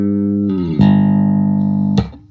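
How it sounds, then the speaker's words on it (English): Bass guitar through a Boss GEB-7 equalizer pedal with boosted mids sounds a couple of plucked sustained notes, loud and close, a fresh note struck partway through and ringing before fading. "So I'm going to make a hill out of the equalizer, so it should be pretty strong on the mid frequencies."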